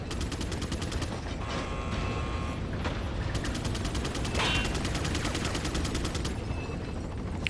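Sustained rapid gunfire in Resident Evil 4, loud dense bursts of automatic shots and booms running almost continuously, with brief mechanical clanks mixed in.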